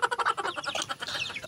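A Filipino native chicken giving a short run of rapid, rhythmic clucking calls, close and moderately loud, with no talk.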